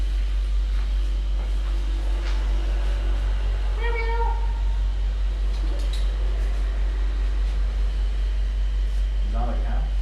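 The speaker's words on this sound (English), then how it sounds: "So probably that part is just a cat." A cat meows a couple of times indoors, brief and moderately close, over a constant low electrical hum with faint voices in the room.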